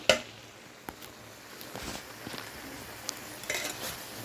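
Eggplant, flat beans, potato and dried fish curry being stirred in a pan, with faint scraping of a utensil, light clinks against the pot and a soft background sizzle, quiet and intermittent with no voices.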